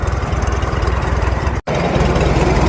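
An antique McCormick-Deering 10-20 tractor engine running at a steady, loud, throbbing chug close by, with a brief cutout midway before the rough, rhythmic idle picks back up.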